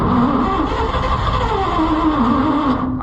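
A Chrysler 318 V-8 engine in an Oliver 7300 combine cranking over to start, a steady loud churning drone with shifting pitch that stops abruptly at the end without catching.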